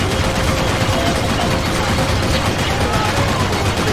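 Steady rattling gunfire in Max Payne 3, a continuous fusillade of shots blended into dense, loud game noise throughout.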